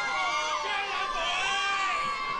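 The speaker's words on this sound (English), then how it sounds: "Big crowd." A big crowd gathered for The Block's final party, a dense wash of overlapping shouts, cheers and excited voices, steady and loud throughout, heard from nearby.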